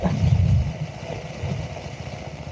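KTM Duke 390 motorcycle (2025) engine idling and rumbling off-road, a steady low throb that swells briefly near the start and then settles into an even, close drone.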